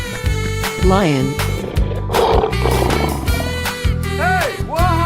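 A lion roars in a 3D animal slide video game, with loud, rising and falling growling calls repeated several times over bright, continuous game music.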